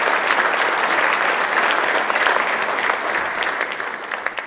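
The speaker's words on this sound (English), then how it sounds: "Give yourself a nice round of applause." Sustained round of applause from the audience at the 2017 Otto Graham football award ceremony, dense and even clapping from a crowded room that tapers off slightly near the end.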